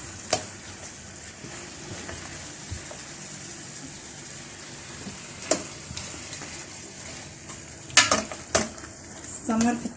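Paella with mushrooms and vegetables stirred in a pan, a steady low scrape and sizzle running throughout with sharper utensil clinks near the start and in a cluster toward the end.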